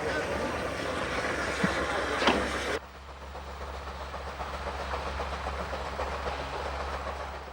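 A train runs on the Rhaetian Railway's Albula Line in Switzerland, a steady loud rumble with rhythmic wheel clatter and a deep low drone, easing to a quieter roll partway through.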